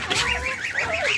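Chickens and turkeys on a farm call out together in a busy, continuous burst of clucking and honking poultry voices, close and fairly loud, with no talking.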